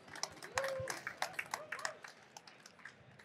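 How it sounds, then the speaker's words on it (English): Audience clapping at a conference executive panel on AI and cloud computing, a scattered burst of claps in a large hall that swells and then thins out over a few seconds. "Let's give them a round of applause."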